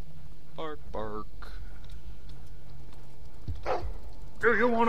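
A dog in a Game of Thrones video game gives several short barks and yips, mixed with a voice and game sounds, with a louder cluster of barks at the end.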